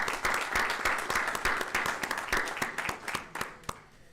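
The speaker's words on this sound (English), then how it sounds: "let's give a round of applause to our speakers that we had on that" Applause for speakers at a board of trustees meeting, a modest group clapping with distinct, separate claps that thin out toward the end.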